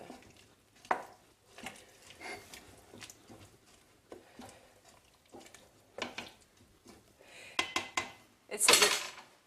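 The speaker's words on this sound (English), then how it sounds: "Give them a stir." Vegetables being stirred in a soup pot for a vegetable soup, giving soft scrapes and clinks of a utensil against the pot in irregular bursts, ending with a louder rattle; no talk.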